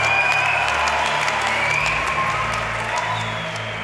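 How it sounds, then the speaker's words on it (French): A church congregation applauds during a Saturday morning gathering, a sustained, fairly loud wash of clapping from a large crowd that slowly fades, with a low tone held underneath. "Alors est-ce qu'on peut applaudir encore plus fort Jésus?"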